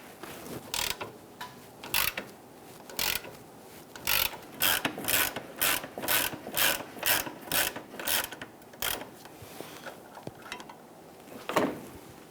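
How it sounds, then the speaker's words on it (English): A ratchet wrench clicks in a long, steady run of rapid bursts while removing the last bolt from the starter of a 1994-2004 Ford Mustang 3.8L V6, with a few slower strokes at the start and end. "Once we remove that last bolt, we don't want this to bonk us in the head."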